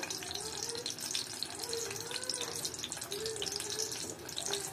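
Chicken kofta pieces are dropped one by one into a pan of oil left over from frying onions until golden, giving a steady, close sizzle that runs the whole time with no talking.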